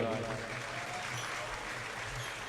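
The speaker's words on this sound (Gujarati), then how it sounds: "તાળીઓના ગરગડાટથી વધાવીએ." A crowd claps in a continuous burst of applause at a devotional folk concert, a dense steady patter that holds for the whole moment with a faint low tone underneath.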